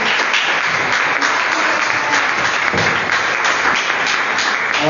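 A church congregation applauding in a loud, dense, continuous burst of clapping that fills the room, close and steady throughout.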